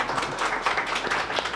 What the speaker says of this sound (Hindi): एक अपने लिए भी ताली बजा दो,